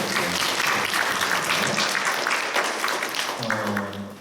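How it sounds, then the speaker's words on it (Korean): Church congregation at a Sunday worship service breaking into warm applause, a dense, even wash of clapping that fades slightly toward the end as a voice begins to speak. "한번 뜨겁게 박수로 한번 서로 격려하고"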